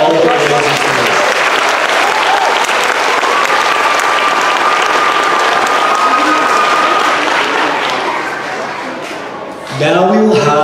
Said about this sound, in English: Let's have another round of applause for all of our amazing singers.